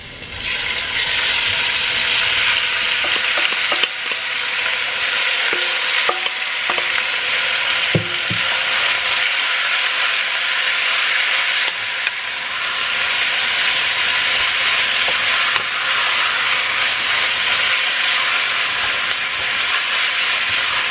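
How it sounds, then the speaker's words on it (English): Meat sears in warm oil in a pot with a loud, continuous frying sizzle and a few clinks of a utensil against the pot, and no talk over it. "I've got a pot here with some oil. It's already nice and warm. I'm gonna go ahead and put the meat in."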